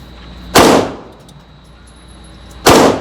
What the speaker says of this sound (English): now I'm going to show shooting with the 45 at 3 yards again